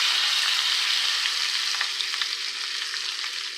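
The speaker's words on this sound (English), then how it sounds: "I just turned the heat off so this is sizzling a little bit." A steady, hissing sizzle of an egg burger frying in a pan just after the heat is turned off, close and continuous, with faint crackles and no talking.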